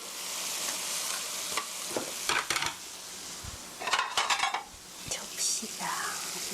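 Soy sauce chicken sizzles in a pan while being stirred, close scraping and clattering of a utensil against the pan in irregular bursts over a constant frying hiss.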